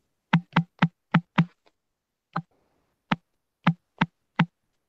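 A phone vibrates against a surface, giving a series of sharp, hollow knocks like whacking a plastic water bottle: five quick hits, a pause, then several more spaced irregularly, close and fairly loud.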